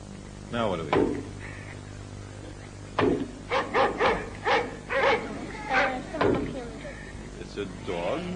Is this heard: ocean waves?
no